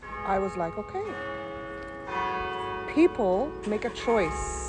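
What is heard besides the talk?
church bells ringing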